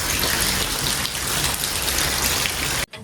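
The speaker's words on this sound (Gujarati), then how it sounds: "આજે જે વરસાદ ચાલુ છે" Steady rain pours down, a dense, even hiss close by that continues without a break before cutting off abruptly near the end.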